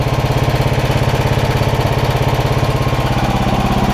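An old Wisconsin engine of about 12 horsepower drives a Sears generator at 1800 RPM, giving a loud, close, steady chugging hum with an even pulsing rhythm and no voices.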